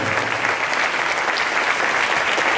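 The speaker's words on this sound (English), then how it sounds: "You will clap for her until she grabs the microphone." An audience at a business summit in a Nairobi conference hall claps continuously, a dense, steady wash of applause at an even level from start to finish.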